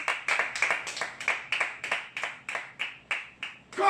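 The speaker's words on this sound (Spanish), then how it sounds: "¿Cuánto me les pueden dar un aplauso al Rey de Reyes" Rhythmic clapping from a church congregation, about a dozen steady, evenly spaced claps in unison, fairly quiet and heard without talk.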